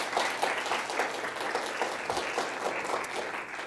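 University lecture audience applauding a guest speaker, a sustained even wash of clapping from a seated crowd, moderately distant and without talking.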